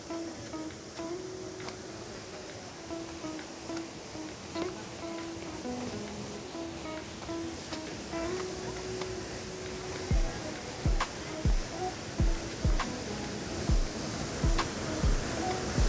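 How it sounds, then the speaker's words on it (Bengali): Waterfall at a Jhargram tourist spot, water tumbling and splashing in a soft, steady wash heard from nearby, with a few sharper splashes or knocks toward the end and faint voices in the background. "ঝর্ণার শব্দটা কিন্তু মেনলি এদিক থেকে আসছে"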